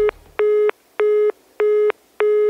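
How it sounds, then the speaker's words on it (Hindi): Telephone busy signal heard alone: five steady, evenly spaced tone bursts, each about a third of a second with equal gaps, loud and clean, from a phone call to a son that will not connect. "इधर बुरी तरह बेचैन हो चुकी राजलक्ष्मी बार बार अपने बेटे का नंबर मिला रही थी"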